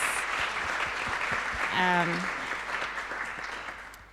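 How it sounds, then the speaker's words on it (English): Audience applause at an academic conference closing ceremony, a steady, moderately distant wash of clapping that swells in the middle and tapers off, with a brief voice and tone surfacing partway through. "So I would like that we applause to her."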